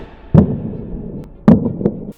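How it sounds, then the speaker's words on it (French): German howitzer shells bombarding the WWI Fort de Lantin: two loud, heavy explosions about a second apart, each a sharp blast trailing into a low rumble. "Les explosions se succèdent."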